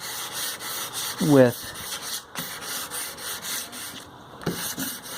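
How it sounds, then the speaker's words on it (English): An old hand sander fitted with sandpaper rubs back and forth over wood, close scratchy strokes in short bursts while someone talks over the work. "the old hand sander with a little bit of sandpaper works real good"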